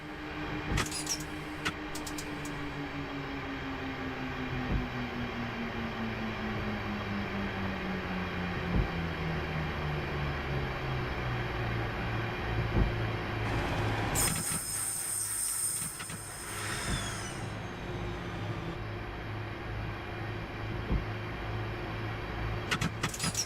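A Class 323 electric multiple unit in Train Simulator Classic brakes into Selly Oak station, with a steady rail rumble and a tone that falls slowly as it slows, plus a brief hiss partway through.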